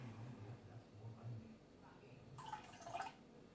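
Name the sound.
apple cider vinegar poured into milk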